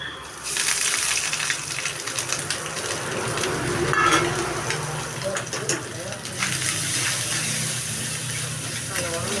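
Grated coconut and curry leaves hit hot oil in a pan for a jackfruit seed white curry and set off a steady hissing sizzle with bubbling crackle. Someone talks over the cooking.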